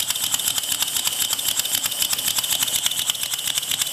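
A small twin vertical steam engine machined from bar stock runs steadily with exhaust venting from holes in the cylinder sides, giving a fast, even, close chuffing and clattering beat with no talk.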